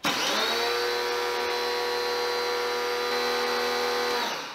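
A TEANDE 2300 electric pressure washer fitted with a 3.0 nozzle starts abruptly and runs as a loud, steady motor-and-pump drone with a constant tonal whine, close by, then cuts off after about four seconds, no speech.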